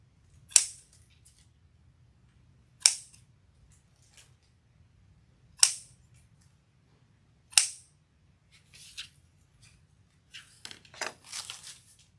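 Scissors trimming bead wreath materials: four crisp, evenly spaced snips ring out in a quiet room, then lighter clipping and rustling follow.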